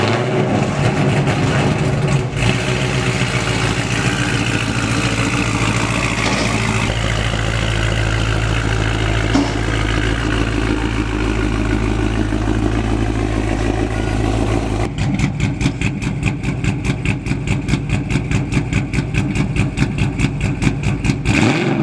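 Car engine fitted with a new muffler exhaust, idling with a deep rumble and then revving and chopping rapidly in the last stretch, loud and close throughout.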